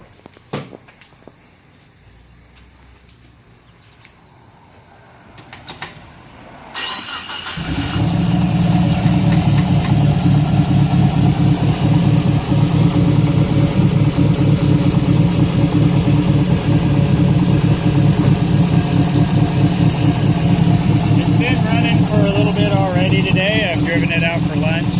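A Mitsubishi Mirage coupe converted with an Evo IV engine sits quiet with faint shuffling, then cranks and fires up around seven seconds in, settling into a loud, steady, close-up idle that runs for the rest of the clip.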